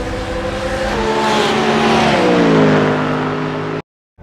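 Race car engine at Spa in the iRacing sim, a loud sustained high-revving drone with rising and falling pitch as it shifts and crosses the line, cutting off abruptly near the end.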